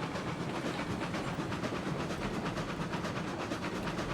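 A train runs steadily in the RailRoads Online video game, its continuous rolling rumble and hiss holding an even, unbroken level throughout with no voices over it.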